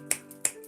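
Two crisp finger snaps about a third of a second apart, close and clear against a quiet background.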